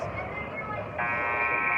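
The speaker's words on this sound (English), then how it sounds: "Buzzer will go." End-of-game horn sounding at a youth 13U ice hockey game, a loud sustained buzzer that grows stronger partway through, with a commentator talking underneath.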